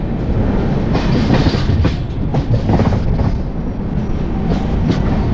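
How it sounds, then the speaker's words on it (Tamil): The Raptisagar Express train rumbles steadily along the tracks, close and loud, with a rhythmic clatter of wheels over rail joints. "வாரங்கள்லேருந்து ட்ரெயின் வந்து 10 நிமிஷத்தில் கிளம்பிருச்சுங்க"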